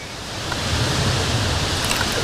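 Steady broadband roar of a big waterfall rushing into an eddy, loud and constant throughout with no talk, its rumble blending with rising wind.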